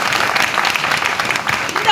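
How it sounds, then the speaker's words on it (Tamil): An audience at a Tamil debate event in Southampton claps steadily and close for the whole stretch, a dense even patter of many hands. "இதுக்கு கொஞ்சம் கைத்தட்டலாங்களே"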